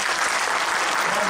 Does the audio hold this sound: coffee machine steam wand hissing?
no